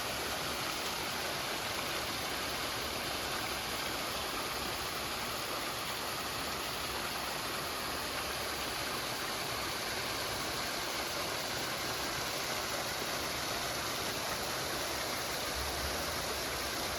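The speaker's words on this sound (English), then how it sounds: "hanging out at these mountain streams" An Appalachian mountain stream gives a steady, dense rush of water that never lets up. It sounds close and fairly loud, with no voices over it.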